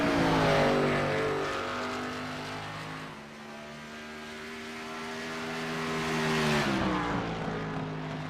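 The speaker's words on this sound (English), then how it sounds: "Car sounds coming through right now." Race car engines in an online Xfinity Series racing game at Iowa, a loud droning roar with pitch that sweeps and shifts as cars pass and rev, fading slightly midway then swelling again before dropping off.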